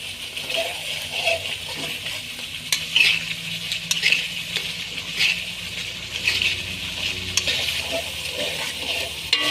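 Spices for fish roe sizzle and fry in oil in a pan while a utensil stirs them, giving a steady crackling hiss punctuated by repeated scraping and clinking strokes against the pan, close and clear with no talking.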